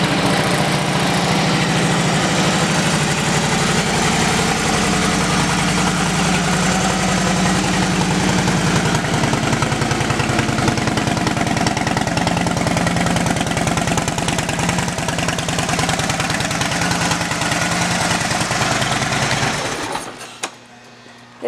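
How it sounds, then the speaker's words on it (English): A 2012 Harley-Davidson Dyna Switchback motorcycle with 8,887 miles idling, its exhaust giving a loud, steady, rapid low throb up close for about twenty seconds before cutting off abruptly at the end. "let's listen to that exhaust."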